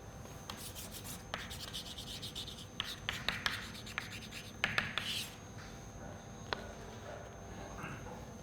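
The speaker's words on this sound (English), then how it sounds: "So I will write it down here." Chalk or marker scratches and taps on a board during an engineering lecture, a faint series of short strokes and rubs with irregular rhythm, quiet against a steady room hum.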